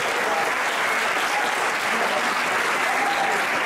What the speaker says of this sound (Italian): chiedevo un applauso per la società Il Delfino